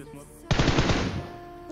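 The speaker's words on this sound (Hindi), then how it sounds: "लेकिन तभी जो कि सामने से फायर आता है" A sudden, loud burst of rapid automatic gunfire in a video game fires from the front, sharp repeated shots packed together for under a second before tailing off.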